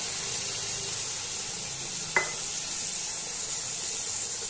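Ground sesame paste goes into a hot pan with a constant, even sizzle, broken once by a brief metallic clink of a utensil partway through, with no talking.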